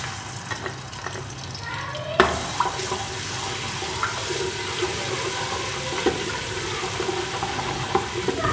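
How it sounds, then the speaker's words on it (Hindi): Garlic ginger paste drops into hot oil for bhuna gosht and bursts into a loud, steady sizzle that continues without a break, with occasional spatters and stirring clicks. "अब इसमें ये लहसुन अदरक की पेस्ट 1 टेबल स्पून ये डाल देंगे।"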